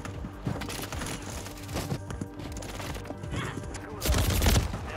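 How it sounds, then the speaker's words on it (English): Rapid gunfire from the Warzone video game rattles out in dense, overlapping bursts, with a louder, heavier volley near the end. "I'm missing too many shots with this gun"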